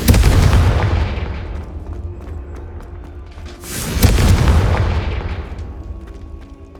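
Spell blasts in Hogwarts Legacy, two loud booming explosions a few seconds apart, each a sharp burst that rolls off into a long fading rumble, with no talking.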